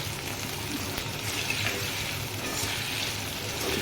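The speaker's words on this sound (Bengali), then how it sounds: "একটু ভালো করে ভেজে নেব" Capsicum and vegetables with a little salt frying in a pan, a soft steady sizzle and crackle, close and fairly quiet, with no talking.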